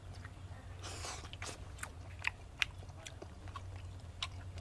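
Someone chews crispy giant roast chicken in Myanmar, soft close crunching and biting with a few sharper crackles over a low steady background hum, no talk.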